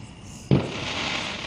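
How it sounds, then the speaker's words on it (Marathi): A single sharp firecracker burst during Diwali celebrations, a sudden bang followed by a lingering crackling hiss that fades over a second, heard from a moderate distance. "आणि फटाके फुटणं चालूच आहे इकडे"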